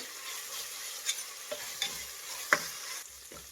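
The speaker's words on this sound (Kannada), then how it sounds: "ಇದನ್ನು ಫ್ರೈ ಮಾಡಿ, ಹಸಿ ವಾಸನೆ ಹೋಗೋವರೆಗೂ ಫ್ರೈ ಮಾಡಬೇಕು ಶುಂಠಿ ಬೆಳ್ಳುಳ್ಳಿ ಪೇಸ್ಟ್." Ginger garlic paste and onions frying in a pan, a soft steady sizzle punctuated by several light spatula taps and scrapes from stirring.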